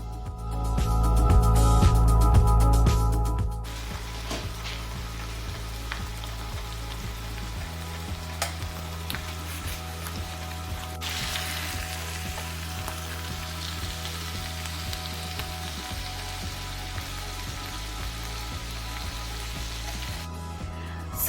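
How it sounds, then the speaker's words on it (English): Filipino picadillo with potato, carrot, green peas and raisins sizzles steadily in a pan, with a louder burst of frying at the start and a soft, continuous hiss while it is stirred. "And then we're going to add the potato and the carrot back to the pan. Keep stirring."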